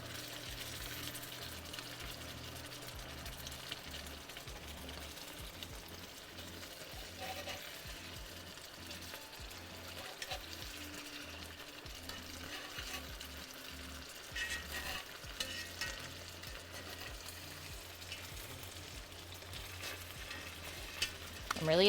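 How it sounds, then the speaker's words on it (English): Food sizzling and crackling in a hot pan, a steady close frying hiss with occasional stirring scrapes, no one speaking. "The sizzling sounds are amazing from this."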